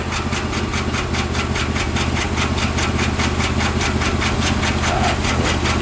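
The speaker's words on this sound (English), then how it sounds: "You definitely get noise with the jaw crusher and the ball mill in operation." Jaw crusher and ball mill running together in a gold mill, a loud, steady mechanical roar with rapid rhythmic pounding throughout, close and continuous with no talk.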